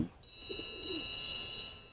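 Pigeons in a loft in Khilgaon give a brief, soft cooing burst, faint and low, with a thin steady high tone running behind it.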